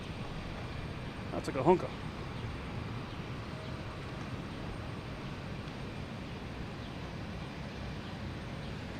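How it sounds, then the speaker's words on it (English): A British Airways Boeing 787 arrives at Boston Logan from London Heathrow as a faint, steady distant rumble under a voice, with one short louder burst near the start. "British Airways coming from London Heathrow, flight 50G 787."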